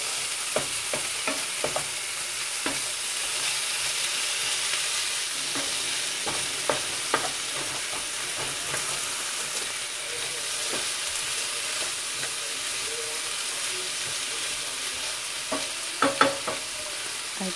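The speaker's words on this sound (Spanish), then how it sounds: "Hay que revolver bien." Potatoes fry in a pan while being stirred, a long steady sizzle punctuated by regular scraping and knocking strokes of a utensil, close and fairly loud, with a cluster of sharper clanks near the end and no speech.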